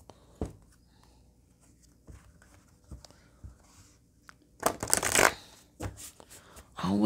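Oracle cards from a Rackham Vibrant Oracle deck shuffled by hand, a soft riffling flutter that swells into a louder burst of card slaps near the end, with a few light taps and quiet room noise before it.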